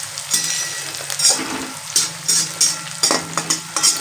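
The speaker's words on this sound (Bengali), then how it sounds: "তো এগুলো একটু আমি হালকা করে ভেজে নেব।" Onion, green chili, bay leaf and whole cumin frying in oil for a chickpea curry, with a close, rhythmic series of spatula scrapes and stirs over a continuous sizzle.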